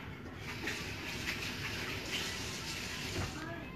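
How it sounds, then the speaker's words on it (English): A kitchen tap runs steadily as hands are rinsed under it during guacamole preparation, a close continuous gush of water at an even level for a few seconds. "I'm just gonna rinse my hands off real quick."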